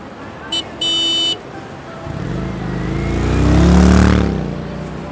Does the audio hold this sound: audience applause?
no